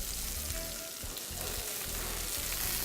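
Calamari fries in a pan as diced plum tomato goes in, a steady, dense sizzle and crackle throughout with soft stirring scrapes, close and constant, with no talking.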